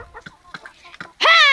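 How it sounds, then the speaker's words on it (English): Backyard chickens cluck, a hen giving a loud, close squawking call at the end after softer scattered clucks and faint noises. "Mental chickens."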